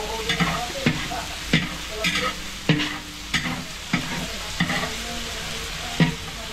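Food stirred in a large cooking pot, a rhythmic series of scraping clacks of the ladle against the pot over a continuous sizzle, close and steady with no talking.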